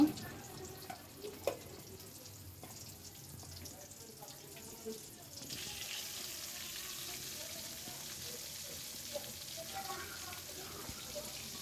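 Loitta (Bombay duck) fish fry cooking two pieces at a time in a pan: a quiet start with a few small clicks gives way to a steady, soft, broad frying hiss that continues to the end.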